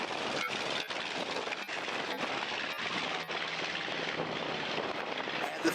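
B-25 bomber with radial piston engines at an airshow, a continuous distant roar with a steady rumbling drone, fairly faint and unbroken across the clip.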